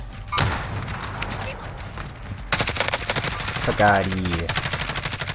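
Rapid bursts of Grau 5.56 assault rifle fire in the Warzone video game ring out in a loud opening volley and then a sustained stretch of shots, with players talking over the shooting.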